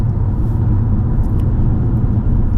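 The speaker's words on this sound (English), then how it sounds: "All you hear is actually the tires." Constant low rumble of a 2019 Toyota Camry's tires rolling over the road at speed, smooth and unbroken, heard from inside the car.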